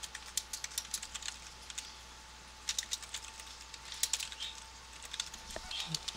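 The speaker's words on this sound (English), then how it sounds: "Once you have your blank screen, you can start typing." Clusters of quick, light clicks of typing on a computer keyboard come in irregular bursts with short pauses, fairly close, over a faint steady electrical hum.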